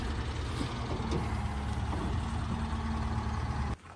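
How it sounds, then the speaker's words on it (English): A tractor eases a stripped Suzuki Samurai on a Toyota rear end backward around a shop, its engine giving a steady, loud diesel rumble with a faint mechanical whine that cuts off abruptly near the end. "it's easing her on back here with the tractor"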